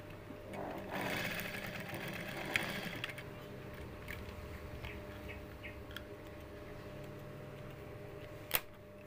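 Sewing machine stitching a skirt waistband, its needle whirring in a short burst and then running on more quietly in a steady patter, close by, with a couple of sharp clicks.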